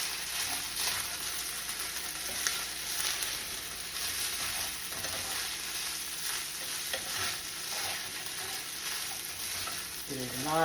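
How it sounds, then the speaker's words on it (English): Rice fries in a hot skillet with a steady, moderately quiet sizzle, broken by scraping stir strokes of a utensil against the pan, with no talking. "Yes, we're frying this rice."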